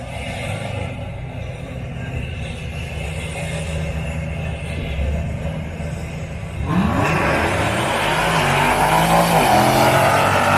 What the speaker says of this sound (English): the Trackhawk with its ear-splitting exhaust note will be heading down the left-hand side